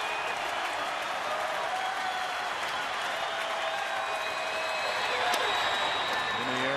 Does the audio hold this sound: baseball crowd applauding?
yes